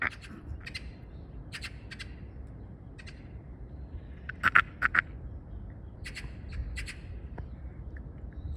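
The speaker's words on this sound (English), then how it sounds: "Let's see the birds" Birds squawking on a roof in a park on a Sunday, with scattered harsh calls, several near-together squawks midway, over a low outdoor rumble.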